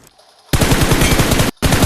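Gunfire in the mobile game PUBG Mobile, a loud, dense burst of rapid automatic shots, a brief break, then the fire resumes.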